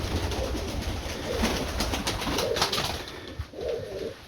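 Pigeons coo in low, rolling phrases while pecking at garlic outdoors in cold weather, several soft calls rising and fading over steady background noise.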